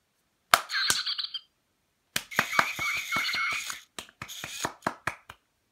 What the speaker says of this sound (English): So maybe try clapping.